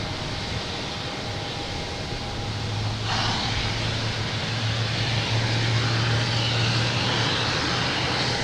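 Airliner on flight 187 to LAX pushing back at Boston Logan, a steady broadband engine and ground hum with a low droning tone that swells slightly partway through, continuous and fairly close, no voices.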